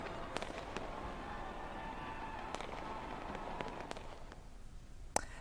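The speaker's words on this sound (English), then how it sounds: "Australia also welcomed New Year with fireworks show and visuals from Sydney" A New Year fireworks display crackles in the distance, with scattered sharp pops and bangs, one louder near the end, over a steady background wash.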